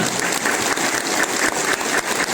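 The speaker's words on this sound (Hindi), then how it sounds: "जोरदार ताली" Audience applause at a company founding-day celebration: a dense, steady wash of clapping from a large indoor crowd, loud and continuous throughout.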